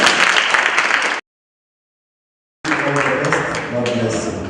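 Audience applause at a ward-level political debate, a dense burst of clapping that cuts to silence partway, then resumes with a murmur of voices underneath.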